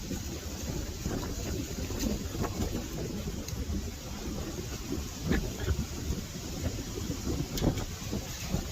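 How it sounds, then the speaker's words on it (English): Wind blowing outdoors, a steady rushing gusty noise buffeting the microphone, with occasional louder swells and no voices. "there's some wind."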